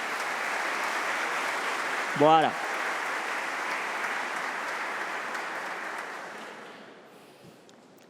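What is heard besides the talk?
audience applause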